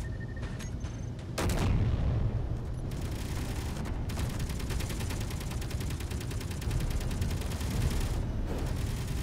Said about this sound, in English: My missiles work!